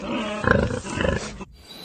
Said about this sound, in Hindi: गोरिल्ला